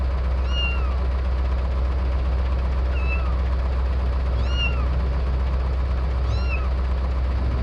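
A cat in the Indian Bus Simulator game meows repeatedly, four distinct rising-falling cries spaced a second or two apart over a constant low engine idle.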